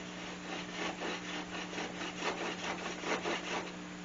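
A sharp-angled hand saw cuts a dado across wood end grain with a quiet, steady run of back-and-forth rasping strokes and no voices.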